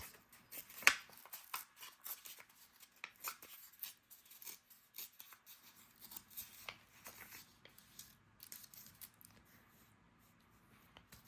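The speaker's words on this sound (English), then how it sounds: "let's tear this up like this" Paper is torn by hand for a journal craft project, giving soft, close crackles and rips in uneven bursts at low volume, with a sharp tap near the start.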